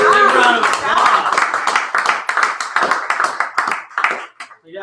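Clapping from a small audience at a poetry open-mic night, an uneven patter of hands that starts full and thins out into scattered claps before fading near the end.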